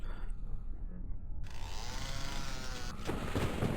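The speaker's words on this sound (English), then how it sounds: "I picked up this chainsaw, now I'm stuck with it." Chainsaw weapon in the video game DOOM 64, a steady buzzing engine whine with a harsh rasping edge that thickens and brightens midway, running continuously and loud throughout.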